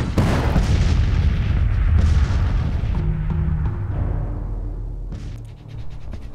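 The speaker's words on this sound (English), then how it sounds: "we're just going to continue this bombardment in Norfolk" Artillery bombardment in the Civil War strategy game Grand Tactician, with a loud opening boom followed by rolling, rumbling cannon fire that slowly fades, then another sharper burst near the end.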